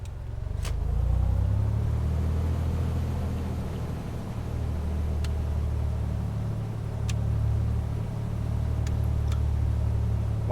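A small aircraft's engine runs up steadily on the taxiway, a continuous low rumbling drone that holds fairly constant throughout, with no talking.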